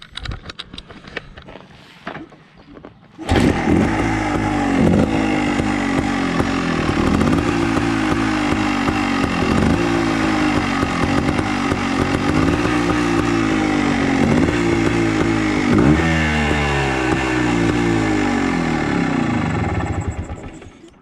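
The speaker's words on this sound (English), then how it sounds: "I'll just give it a start for you." Yamaha TY 250 trials motorcycle kicks into life after a few quiet seconds, then settles into a loud, close, lumpy two-stroke idle with rhythmic pulsing that carries on steadily to the end, no voices.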